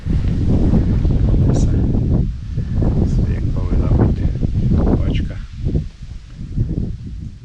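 Strong wind buffets the microphone with heavy low rumbling gusts, nearly drowning out a person talking.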